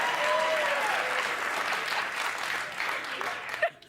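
Late-night talk show studio audience applauding, a dense steady wash of clapping that fades toward the end, with a faint voice briefly over it.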